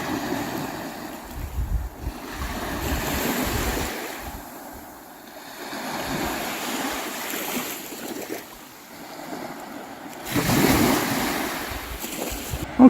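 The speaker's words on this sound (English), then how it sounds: "The magic and the power of these small waves" Small waves wash onto the Baltic Sea shore of Gotland Island, a continuous surging rush that swells and recedes in slow cycles, with gusty wind noise on the microphone and no talking.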